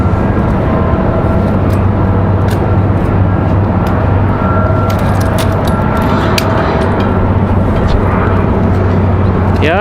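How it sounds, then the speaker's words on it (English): Airliner with GE90 jet engines at Raleigh-Durham airport on a windy day, a loud steady engine roar and whine with wind noise, continuous throughout. "Shot of that GE90, the smaller GE90, but it's still nonetheless the GE."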